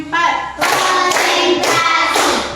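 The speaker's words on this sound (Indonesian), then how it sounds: "Tepuk 1, tepuk 2, tepuk 3, tepuk 4" Four loud, sharp bursts of hand clapping in a steady, even rhythm in a classroom, close by and with no talking.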